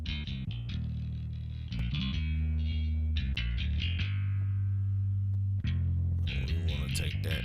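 A bass guitar runs through an effects plugin for a hard rock tone, with sustained, gritty low notes that change pitch in steady phrases, loud and close, with no talking.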